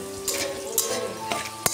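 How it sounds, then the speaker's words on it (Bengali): Peanuts fry in a pan for a red spinach dish, a steady sizzle broken by a few sharp scraping stirs close by. "ওই জন্য বাদাম ভাজা হচ্ছে"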